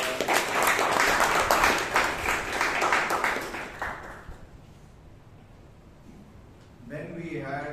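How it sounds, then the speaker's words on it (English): Audience applause at a Toastmasters club meeting in Bangalore, a steady round of clapping for about four seconds that tapers off into room quiet before a voice begins speaking. "Please give the evaluator and the speaker a huge round of applause."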